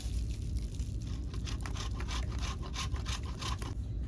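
Something being grated by hand for a craft project, a close, quiet rasping scrape repeated in a quick back-and-forth rhythm.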